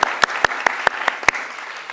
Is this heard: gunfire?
no